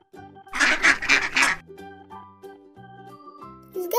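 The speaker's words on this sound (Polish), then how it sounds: "Zgadza się, to jest kaczka." A duck quacks in a quick run of four or five loud, raspy calls, then stops, with soft background music continuing.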